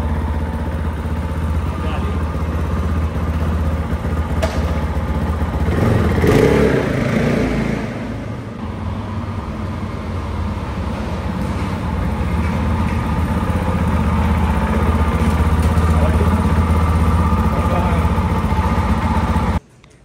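A motorcycle being ridden: a steady engine drone runs throughout, swells briefly around the middle, then cuts off abruptly at the end.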